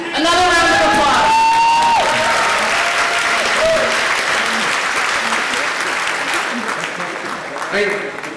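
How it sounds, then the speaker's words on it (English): Audience applause at a university celebration and reunion evening, loud and sustained for the full stretch with a few cheers and whoops, a voice heard briefly over the clapping near the start. "Another round of applause"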